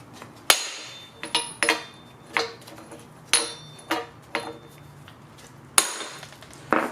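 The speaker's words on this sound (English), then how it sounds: "We're just gonna hammer on that a handful of times until the hub slides straight out." Metal-on-metal hammer blows drive a 27mm socket against a wheel hub on a 1997–2001 Honda Prelude front suspension, about nine sharp ringing strikes in uneven bursts, close and loud, with no talk.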